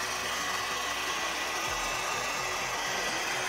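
A heat gun blows steadily on the glue of a Honda ST headlamp lens to soften it, a continuous close broadband hiss and whir with no talking.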